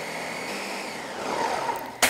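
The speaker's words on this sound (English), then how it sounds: "we're gonna blend it all up together until it's really smooth" A blender whirs loudly and continuously while blending ingredients until smooth for Burkina Faso fat rice. Its motor pitch shifts slightly before an abrupt stop and a knock.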